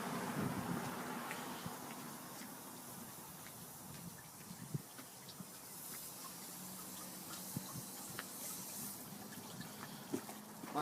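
Old coolant draining from the engine of a 1992 Lexus ES300, a faint steady trickle of liquid with light wind noise and occasional small knocks.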